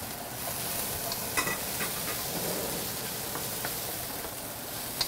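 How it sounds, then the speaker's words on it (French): Steady sizzling of food in a saucepan with occasional soft scrapes and taps of a utensil stirring, continuous and close, no voices. "Il va falloir que tu remues un petit peu à côté, Pierre, dans la casserole également."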